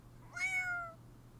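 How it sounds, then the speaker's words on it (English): A single cat meow from an animated Family Guy episode, rising and then falling, about half a second long, heard alone over a low steady hum. "And just like that, the Griffins have a cat"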